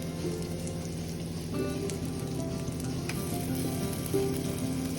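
Kebabs frying slowly in a pan over low heat, with a steady, even sizzle and crackle throughout and small pops here and there.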